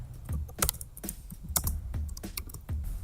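Typing on a computer keyboard while coding a Ruby on Rails blog application, with quick, uneven key clicks and louder thocks of the bigger keys, close and clear with no voices.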